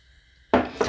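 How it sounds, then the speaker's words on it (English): Potatoes dropped into a pot of boiling Bahamian fish, two quick close thuds and splashes half a second apart over a quiet background hum. "we're also going to put in our potatoes"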